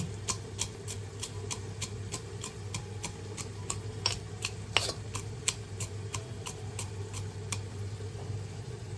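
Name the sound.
crushing peanuts in a mortar and pestle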